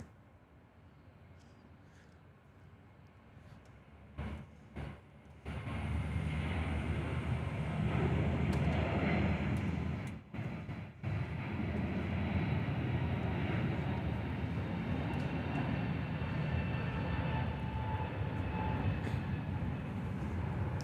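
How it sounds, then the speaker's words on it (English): A Qantas Airbus A321neo airliner rolling out on the runway gives a steady, loud, broadband engine and rolling roar that holds for most of the stretch after a quieter start. "Qantas 646, Oscar Golf Alpha on your screen, just rolling out"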